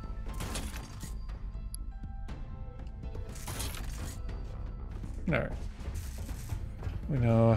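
Gunfire from a newly unlocked gun in the game Sentry, a string of rapid, loud shots with clattering impacts and mechanical clicks, with someone talking over it.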